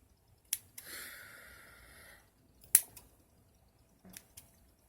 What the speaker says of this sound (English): So I'm going to snippy again with the dog scissors.